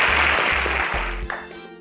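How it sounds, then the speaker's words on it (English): An audience at the InterswitchSPAK Kenya 3.0 grand finale awards event claps in a short burst that fades out toward the end. "Help me welcome, with a round of applause, Miss Cherry Eromosele."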